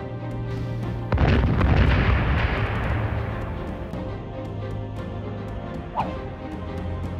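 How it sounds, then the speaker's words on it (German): An explosion and fire effect on a film stunt set, a sudden heavy boom that rumbles and roars for a couple of seconds before fading into a lingering crackle, with a smaller pop later. "einfach noch eine Explosion und noch mehr Feuer eingebaut"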